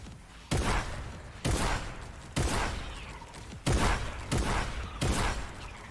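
Six loud, evenly spaced combat shotgun blasts from flick shots on a Fortnite aim training map, each a sharp boom with a short decaying tail, played alone without talk.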